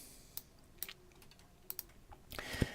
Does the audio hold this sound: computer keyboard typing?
yes